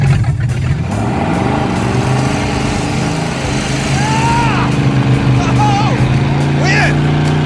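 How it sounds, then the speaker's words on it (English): A Suzuki Samurai fitted with a 440 big block engine, throttle stuck wide open, roars loud and close in a sustained high-revving burnout, with excited voices shouting over it. "Who knew it would be this difficult to get a burnout out of a 440 Samurai?"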